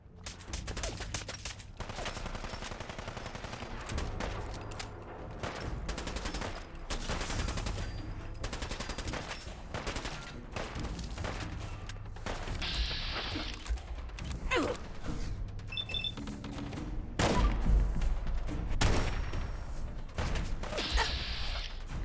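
Gunfire in the video game Fallout 4 during a modded survival playthrough: sustained rapid bursts of automatic fire crackle over mechanical clanks and creaks, loud and dense for the whole stretch, growing heavier toward the end.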